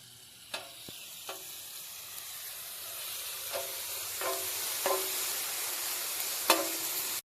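Onions and ginger-garlic paste sautéing in hot oil for a country quail curry: a soft, continuous sizzle broken by a few sharp spoon taps against the pan.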